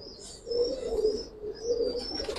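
Giribaz pigeons coo in a loft, two low rolling calls close by over a steady hiss, with faint high chirps above and no one speaking.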